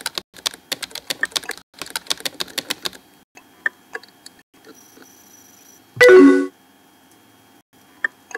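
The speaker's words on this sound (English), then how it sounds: "Totally typing that right now." Rapid keyboard typing in the game Emily is Away clatters in quick bursts, then thins to scattered keystrokes, broken by a short loud electronic chime.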